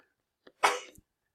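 One sharp, sudden sneeze preceded by a quick intake of breath, close and fairly loud, with quiet surroundings.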